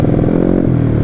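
A Yamaha Mio 200cc scooter engine on a test ride, a brief steady buzzing drone, loud and close with no talk over it.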